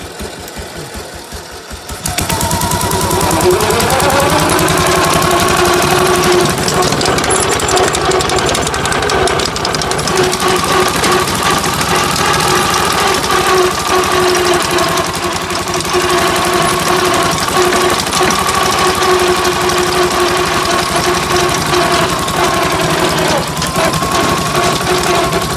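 A Ransomes MG40 crawler tractor engine runs in gear with a steady, loud mechanical drone and rapid rattling beat after a brief lower start, holding a constant pitch close by for the whole stretch.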